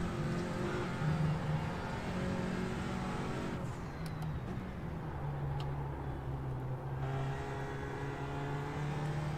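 An Audi RS3 race car in iRacing at Oran Park, its engine droning steadily and climbing through revs, a brief drop as it shifts mid-way before pulling again, heard alone at moderate volume.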